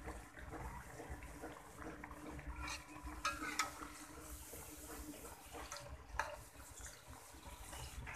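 Potato sticks fry in hot oil for homemade french fries, giving a quiet, steady sizzle with a few louder stirring clatters now and then.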